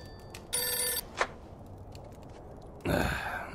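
A telephone rings in the Mafia 2 video game, with a short electronic ring burst, a brief pause and a breathy sound, then a second ring starting near the end, all fairly quiet.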